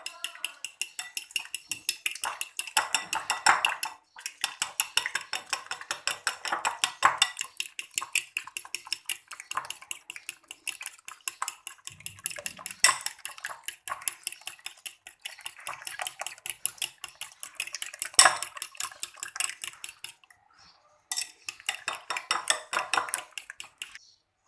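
Eggs being whisked in a bowl for a Spanish omelette, a fast continuous metallic rhythmic clatter of utensil against bowl lasting over twenty seconds, with a brief pause near the end.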